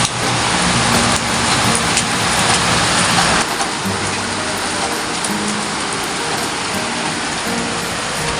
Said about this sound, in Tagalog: nag-umpisa na bumuhos ang ulan dito sa amin